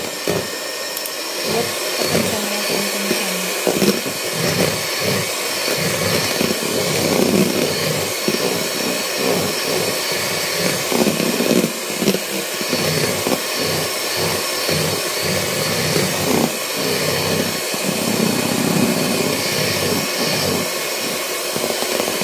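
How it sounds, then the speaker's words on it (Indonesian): An electric mixer whips egg whites with sugar and cream of tartar, its loud, steady motor whine running throughout with faint rattling against the bowl and no talking. "Kemudian kita mixer sampai benar-benar kaku."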